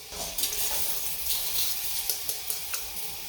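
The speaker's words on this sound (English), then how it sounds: "now we're gonna carefully add in all of those jalapeno rings" Jalapeno rings tumble and stir into a big pot of boiling sugar syrup, giving a steady close hiss and bubbling with soft clacks of the peppers and spoon throughout.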